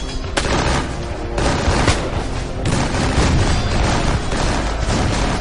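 Musket volleys and cannon fire at a Battle of New Orleans reenactment from the War of 1812, with loud sharp cracks and booming blasts over several seconds, overlapping shots and rumbling echoes, no voices.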